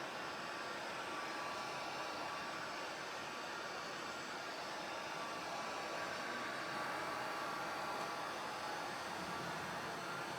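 A heat gun heats a metal nameplate, giving a steady, unbroken rush of blown air and hiss that stays at an even level throughout.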